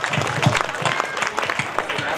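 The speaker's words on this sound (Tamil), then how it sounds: "பெரிய கைத்தட்டல் கொடுத்துடலாம்." An audience at a school annual day claps in a short burst of uneven applause, with a voice speaking over it.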